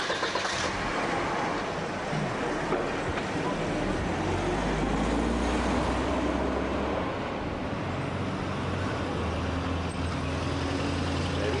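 Steady road traffic rumbles past outdoors, a continuous low engine drone with heavier truck or bus passes swelling midway, loud and constant throughout with no clear speech.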